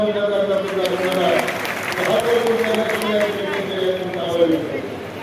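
A crowd clapping at an outdoor political by-election rally, the scattered applause rolling on steadily beneath someone speaking loudly over an amplified sound system.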